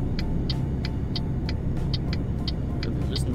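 A truck in Euro Truck Simulator 2 rolling along off the throttle, a steady low engine and road rumble with regular ticking clicks repeating over it.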